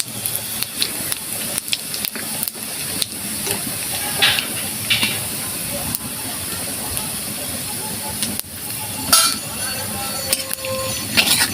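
Dried red chili and cumin seeds crackle and hiss loudly in hot oil, with bursts of spitting and a few metallic clinks from the pan throughout.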